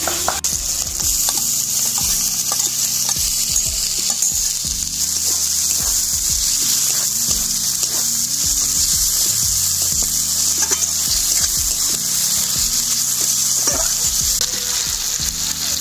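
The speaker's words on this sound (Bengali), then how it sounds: "টমেটো দিয়ে মশলা খুব ভালোভাবে কষিয়েছি।" Spice masala with chopped tomato fries steadily in a pan, a loud continuous sizzle with scattered crackles and the occasional scrape of stirring, no voices.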